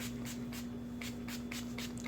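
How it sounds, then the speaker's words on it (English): Short, close spritzes of water onto natural 4A/4B hair from a spray bottle, about eight quick bursts in an uneven rhythm over a steady low hum. "So I'm just going to spray my hair with this water"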